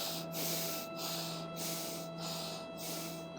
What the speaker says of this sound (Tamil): கண்களை மூடி மெதுவாக மூச்சை உள்ளெழுத்து மெதுவாக மூச்சை வெளியிடுங்க